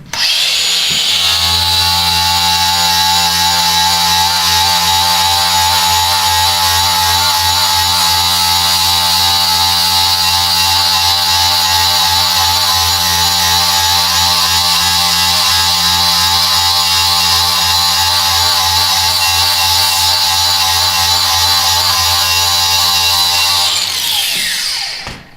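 Angle grinder fitted with a Tyrolit Strip-It disc doing rough cleaning, a loud continuous whine with strong steady hum running without a break until it spins down at the end, no talking.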